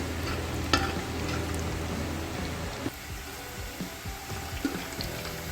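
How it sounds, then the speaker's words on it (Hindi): Onions frying in half a cup of oil for chicken shorba, a steady close sizzle with a few sharp crackles and stirring clicks, no talking. "तो सबसे पहले हम आधा कप तेल डालेंगे और उसमें प्याज को डालकर हल्का फ्राई कर लेंगे।"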